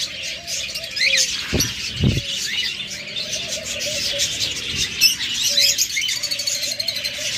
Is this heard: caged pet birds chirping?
yes